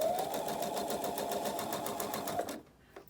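Sewing machine stitching panels of a six-panel welding cap, a loud, rapid and even mechanical chatter running close for a few seconds before abruptly stopping.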